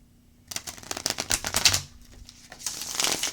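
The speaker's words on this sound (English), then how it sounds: "one more shuffle" Tarot cards riffled and shuffled close up, a quick burst of flapping snaps, a pause, then another softer round of shuffling.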